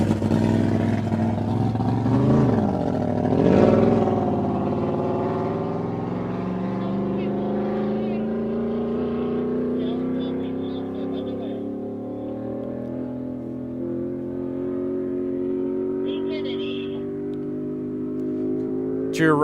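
Race car at Speedweek 2025 accelerating away, its engine note climbing steadily in pitch over a long pull and slowly fading with distance, with voices heard faintly in the background.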